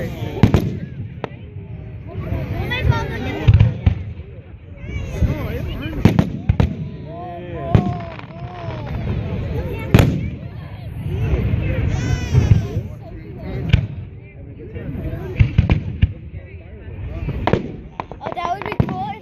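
Fourth of July fireworks burst in repeated loud booms and crackles close by, with people talking and a voice over the explosions.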